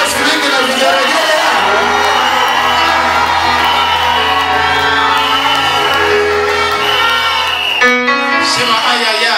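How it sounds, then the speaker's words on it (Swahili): At a Sunday church service the congregation claps, cheers and ululates loudly, shouting and whooping in a dense sustained wall of crowd noise that lasts throughout. "Ungeweza makofi mengi na vigelegele"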